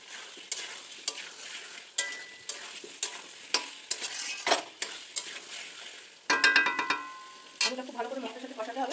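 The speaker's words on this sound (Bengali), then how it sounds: "আলুটা খুব ভালো করে মশলার সাথে কষাতে হবে যাতে তেলটা ছেড়ে দেয়" Potatoes sautéed with spices in oil for aloo dum, with a soft sizzle under repeated sharp ladle scrapes and clinks against the pan, close and rhythmic, roughly one stroke per second.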